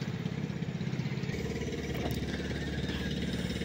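A Yamada diesel engine running aboard a fishing boat out at sea, a loud, close, steady chugging drone with a rapid rhythmic knock throughout.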